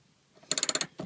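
Ratchet fitted with an 18mm socket loosening a rear seat bolt inside a 2013 Jeep Wrangler JK Unlimited: a quick burst of about six sharp, close clicks, then one more short click after a brief pause.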